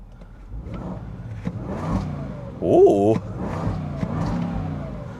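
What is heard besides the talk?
2026 Defender 110 V8 supercharged engine revving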